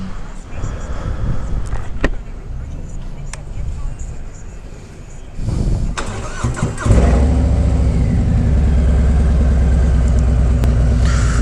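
Motorcycle engine starting up, then settling into a steady, loud, close idle that runs to the end, with a person talking over the earlier part.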